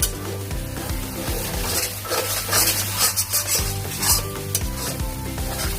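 Ground spice paste frying in hot oil, a close steady sizzle with a spoon scraping and stirring against the pan.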